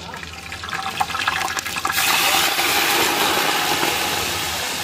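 Water poured into hot oil with fried whole spices for a roadside-style veg biryani, a loud rushing hiss and sputter that swells and then settles into a steady sizzling roar.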